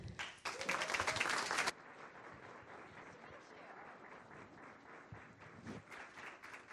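An audience applauds to welcome two speakers at an in-conversation art event, a burst of clapping for under two seconds that cuts off abruptly, followed by a quieter room with faint murmuring.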